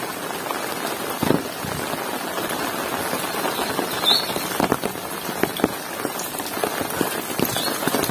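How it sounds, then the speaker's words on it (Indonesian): Steady rain pattering on surfaces in a Sundanese village, a dense, even hiss of drops with occasional louder splashes, close and continuous with no talking. "apalagi dikasih hujan seperti ini"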